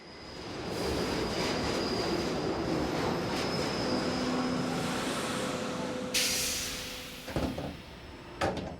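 A train pulls into a station in an Evangelion scene, a steady rumbling roll of wheels with a faint high squeal and hiss, fading toward the end as sharp clanks and a brake release break through.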